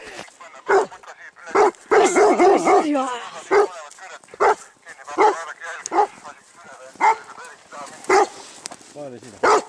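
Weimaraner barking during a moose hunt: repeated sharp barks and yips in an irregular series, fairly close and loud, with excited human voices talking in between.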